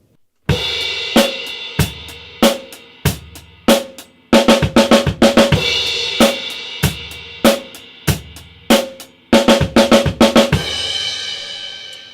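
A drum kit plays a linear drum fill, with sharp, close hits falling one at a time in quick repeating groups, cymbal wash ringing between phrases and no voice over the playing.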